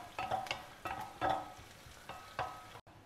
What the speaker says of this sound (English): I have just chopped 1 large onion and I am frying that